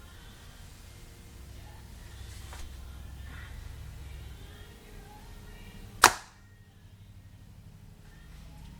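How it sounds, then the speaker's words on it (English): A Hoyt RX-4 compound bow looses a 578-grain arrow in a single sharp, loud snap that decays quickly into quiet after a stretch of low background hum. "Here's the last and final shot."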